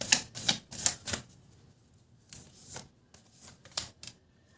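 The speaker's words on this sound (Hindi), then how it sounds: "पहले कार्ड्स निकाल लेते हैं और क्या है देखते हैं।" Tarot cards being drawn and shuffled during a Hindi tarot reading, a run of crisp papery snaps and riffles at close range, clustered at the start and returning in short bursts after a quiet gap, with no talk.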